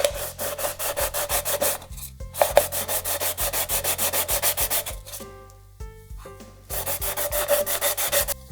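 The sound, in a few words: sanding an aluminium soda can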